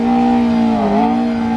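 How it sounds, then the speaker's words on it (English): A McLaren P1 supercar engine drones loudly at a luxury car event, holding a steady high rev with a brief dip and rise in pitch, close and continuous. "P1 is revving right here."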